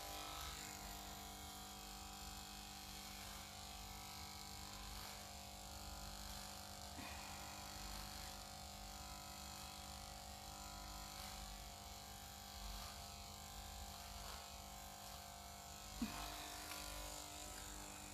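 A steady electric razor hums continuously at low level while a head is shaved, with only slight shifts as it moves and a brief knock near the end.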